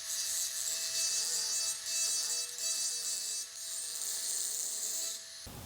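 A Nakanishi Emax EVOlution micro-grinder running with a cylindrical burr, a steady high-pitched whine with a thin rasping grind that keeps on through the clip and briefly dips before stopping, with no talking.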